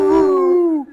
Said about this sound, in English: Can you get Theo to howl